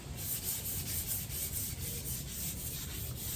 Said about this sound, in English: I'm not going to grind into the surface with this sandpaper